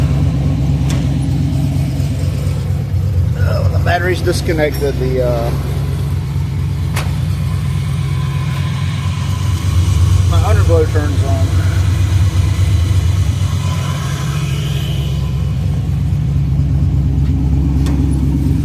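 A 1990 Ford Mustang LX Foxbody V8 fitted with M80 mufflers idles steadily and close up, a deep continuous rumble running throughout while someone talks over it.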